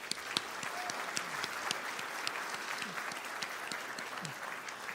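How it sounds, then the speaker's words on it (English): Applause from a seated audience at an awards event, fairly soft and steady for several seconds, with a few sharper individual claps standing out. "Please, applause."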